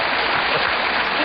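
Dense, steady studio audience applause on a late-night political talk show after a joke, a continuous wash of many hands clapping, loud and even throughout.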